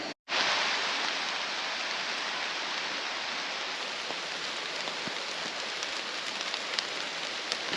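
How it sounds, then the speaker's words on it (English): Heavy, steady rain pours down continuously by the River Eden, a dense unbroken hiss with faint scattered drops pattering on hard surfaces nearby, no voices. "that rain has been coming down for about an hour now"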